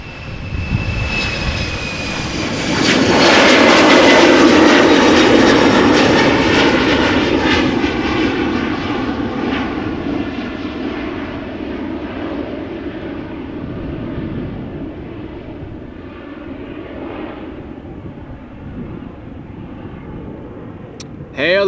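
An Embraer jet departing runway 36L at Amsterdam Schiphol roars loudly as it passes close by, a broad rising engine rumble peaking early then slowly fading into the distance over about twenty seconds.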